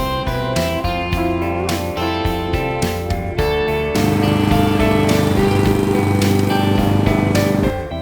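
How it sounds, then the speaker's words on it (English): A lawn mower engine mowing a pasture drones steadily and loudly up close, its pitch wavering as it works, then revving harder and holding a rougher, fuller roar. "I'm continuing on with this madness of mowing the pasture behind the cow"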